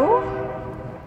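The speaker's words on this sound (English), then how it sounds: "that's the trash train in the background." A trash train's horn sounds briefly near a cemetery in Barnstable, MA: a single tonal blast that fades over about a second, moderately loud with rumbling underneath.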